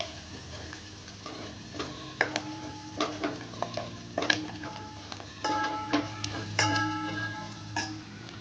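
Spices and turmeric sizzle in hot oil in a pan while being sautéed on a low simmer for pepper rasam, with repeated clicks and scrapes of stirring over a soft frying hiss.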